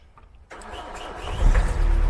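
A Vauxhall Vivaro van with a history of cutting out and dead electrics cranks briefly after a quiet moment, then catches and settles into a steady, rising idle up close.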